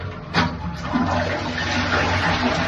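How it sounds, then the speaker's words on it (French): A toilet flushes up close during a cistern flush-mechanism replacement: a loud, steady rush of water that starts abruptly and keeps pouring for the whole clip, with no talking. "Forcément, ça tire la chasse."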